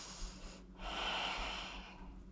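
A person takes a slow, airy breath during a shoulder stretch in a low-impact posture workout: a soft breath, a brief pause, then a long audible exhale close up, with no talking.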